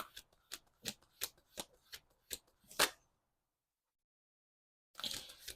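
Tarot cards are shuffled by hand in a run of about ten crisp riffling snaps close to the mic, then silence for two seconds before a short final burst of card handling.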